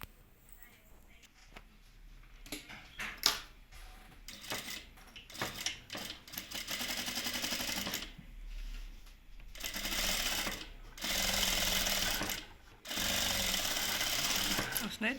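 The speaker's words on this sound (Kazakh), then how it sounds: "Осылай түзу сызықпен бәрін тігіп шығамыз." A sewing machine stitching straight quilted lines on a padded vest with batting underneath, fast rattling runs in several long bursts separated by short pauses, close and clear, with someone talking at the start.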